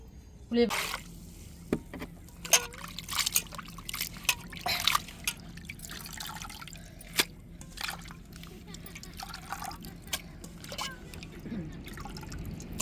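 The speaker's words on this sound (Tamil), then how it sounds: "இன்னும் கொஞ்சம் நல்ல தண்ணியை ஊற்றி அலசிட்டு" Peeled prawns for biryani are rinsed in water, with intermittent close splashes, drips and clatters over a low steady background.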